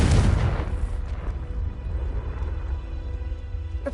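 A Confringo blasting spell explodes in the Hogwarts Legacy video game: a loud, deep boom bursts at the start, then fades into a long rumbling tail with a faint, crackling debris wash.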